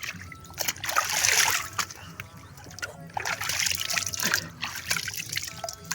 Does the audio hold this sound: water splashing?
yes